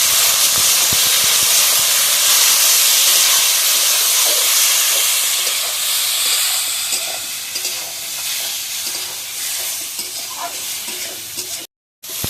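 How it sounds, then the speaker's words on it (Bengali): Water is poured onto spice masala in a hot pan for a spicy fish and eggplant curry, setting off a loud, steady hiss that slowly settles into a gentler sizzle. "জল মশলাটা ফুলে যাবে একটু জল দিয়ে দেবো"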